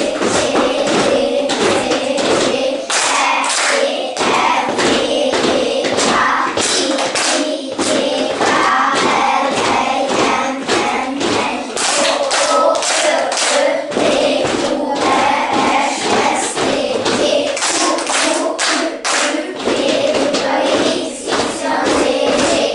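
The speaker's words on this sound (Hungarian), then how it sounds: "a magánhangzóknál tapsolunk, a mással hangzóknál pedig dobbantunk a lábunkkal" Schoolchildren in a classroom clap and stomp their feet in a loud, rhythmic pattern, sharp claps alternating with heavy thuds in a steady group beat that keeps going with only brief pauses.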